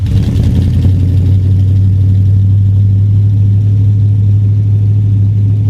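A hot rod Chevrolet squarebody C10 truck's exhaust rumbles loud and close, a deep steady idle with a slight rev at the start, heard alone.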